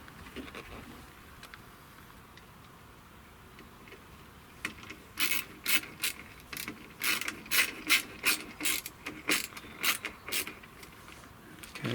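A hand ratchet drives screws into replacement rear door step metalwork on a Land Rover Defender 110. After a quiet start come close, sharp bursts of rapid clicking in a repeated rhythm, separated by brief pauses.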